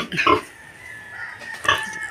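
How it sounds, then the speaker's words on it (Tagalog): A mother hen named Lena gives two short bursts of clucking, close and moderately loud, with a quiet pause between them. "Ito nga po ang aming inahin, si Lena."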